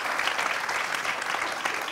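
An audience applauds a singer marking 30 years in music at a Canarian parranda, with dense, lively clapping that stays steady and close throughout the short burst.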